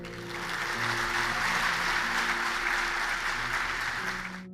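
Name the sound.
audience applause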